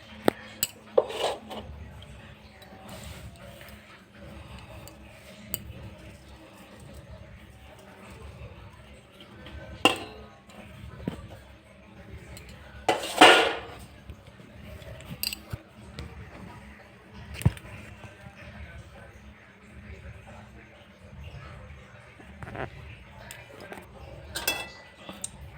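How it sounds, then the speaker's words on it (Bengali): Spoon scraping and clinking against a pot while ground spice paste is worked into fried mango pieces for a homemade pickle, with steady scrapes, occasional sharp metallic clinks and a brief louder burst mid-way, under low background noise. "আমি মশলাটা মিশিয়ে নেব।"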